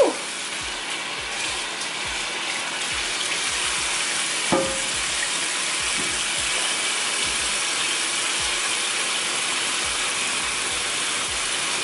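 Water rinsing a houseplant in a self-watering pot, a steady, moderate splashing and trickle with small clicks and drips scattered throughout, no voices.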